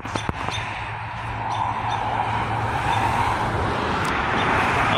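A truck driving past on a road on a breezy, cloudy June day, a steady rising rumble of engine and tyre noise that swells and holds through the clip, with wind and a low engine hum underneath.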